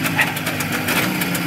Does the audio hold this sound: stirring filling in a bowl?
no